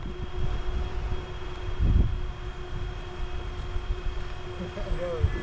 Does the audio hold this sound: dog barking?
no